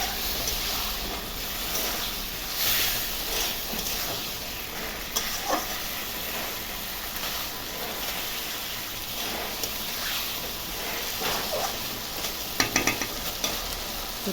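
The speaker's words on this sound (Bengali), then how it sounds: "মশলার সঙ্গে একটু ভালো করে আমি আলুটা কষিয়ে নেব" Potatoes being sautéed with spices and chopped tomato in a pan, a steady close sizzle and hiss with occasional spatula scrapes and clinks against the pan, no talking.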